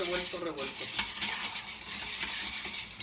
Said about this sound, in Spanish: lo voy a volver a revolver. para que se vuelva a revolver el tajín con el hielo y todo quede bien revuelto